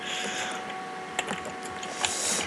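Computer keyboard being typed on during a sky survivor game session, a few scattered clicky keystrokes close by over a background of game music.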